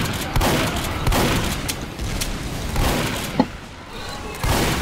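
Shotgun fire from the video game Team Fortress 2 comes as repeated heavy blasts and thuds spread across a dense, noisy game mix.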